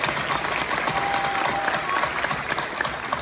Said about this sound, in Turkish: Nasrettin Hocam, önce bir alkış mı alsak arkadaşlara?